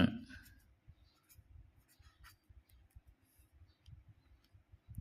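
A pen scratches briefly on paper, making faint, short, intermittent strokes that highlight text, with quiet ticks in between.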